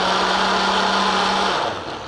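A blender purées beans for a chipotle black bean dip, giving a loud, steady motor whir that holds evenly and then winds down toward the end.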